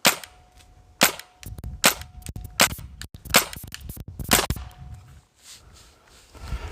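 A Spyder MR6 paintball marker, loaded from its magazine, fires a series of loud, sharp cracking shots at uneven intervals. The shots come close together and are heard alone, with a faint mechanical rattle between some of them.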